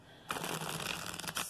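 Tarot cards being shuffled by hand at close range, a dense, continuous papery riffling that starts abruptly after a brief quiet moment and runs steadily to the end.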